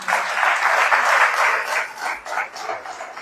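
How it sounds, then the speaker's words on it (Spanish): Congregation in a church applauding for the Lord during a sermon, a dense, steady wash of many hands clapping close by that holds strong and then loosens into a slightly uneven patter. "Denle un fuerte aplauso al Señor"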